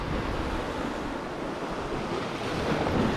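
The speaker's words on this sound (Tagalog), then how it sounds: "malalaki yung sampa ng alon dyan sa gilid" Waves crash and wash against a rocky shoreline during a fishing trip. The surf rumbles loudly and continuously, with gusts of wind buffeting the microphone and a surge building near the end.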